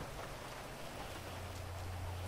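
Rain falls in GTA V Online on a clay tennis court, a dense, steady hiss of rainfall with a faint low hum underneath, no voices.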